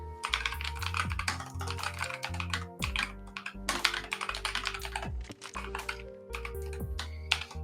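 Rapid typing on a computer keyboard, a close, steady stream of crisp key clicks with short pauses between bursts and no talking.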